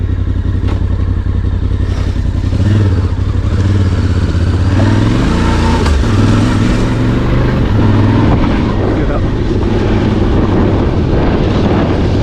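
A Voge DS625X motorcycle rides a green lane trail in Devon, its engine droning close and loud throughout with shifting pitch as the throttle changes, joined by clattering thumps from the rough track beneath.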